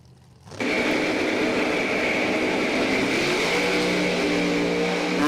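Pair of pickup trucks drag racing at Numidia Dragway, a blue truck and a big green truck, engines bursting to a loud sustained roar after a quiet start and holding at full throttle, close and without talk.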